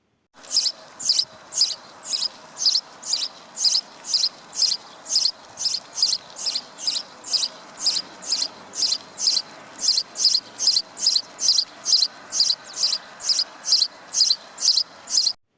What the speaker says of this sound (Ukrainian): Дуже приємно слухати, як горобчики цвірінькають.